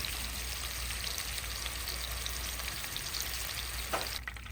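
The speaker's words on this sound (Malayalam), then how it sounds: "അങ്ങനെ ഫിഷെല്ലാം ഇവിടെ ഫ്രൈ ചെയ്തെടുത്തു." Fish pieces fry in hot oil for a fish molly, giving a steady, close sizzle with a continuous crackling hiss throughout.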